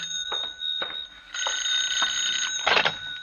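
A telephone rings in an old-time radio drama, its bright electric bell buzzing in short repeated bursts over a quiet background, close and fairly loud, with no voices.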